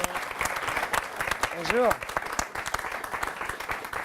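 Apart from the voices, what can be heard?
studio audience applause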